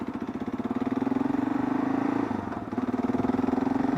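A Kawasaki KLR motorcycle engine drones steadily while riding, a close, pulsing mid-pitched hum that dips briefly partway through as the rider shifts.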